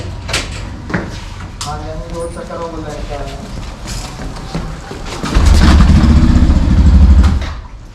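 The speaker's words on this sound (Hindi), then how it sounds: "तो सेकंड गियर में बाइक स्टार्ट हो रहा है" A motorbike kick-started while left in second gear sputters briefly at a school, then catches and runs loudly for a couple of seconds near the end, with scattered clunks and a voice at the start.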